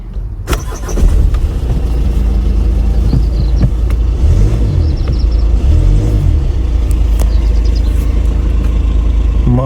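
A 2018 VW Golf 2.0 engine cranks and catches, then settles into a steady, loud idle rumble close by.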